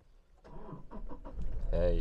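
A 2017 Toyota Hilux SR5 with a 2.8L turbo-diesel catches and settles into a steady, loud idle near the end, following brief sounds of movement in the cab.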